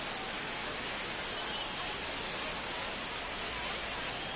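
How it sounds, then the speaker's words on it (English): Steady rain pours down over a baseball stadium in MLB The Show 25, a constant broadband hiss with no pauses or individual drops standing out, filling the whole stretch alone. "It feels like we might be headed towards a rain delay if the weather doesn't ease up, Chris."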